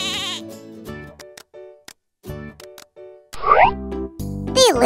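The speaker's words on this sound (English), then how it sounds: "Oh, the black goat is hungry, too!" Goats bleat while being fed carrots, a black goat among them, with several short, wavering cries mixed with bouncy cartoon-style tones and brief pauses between them.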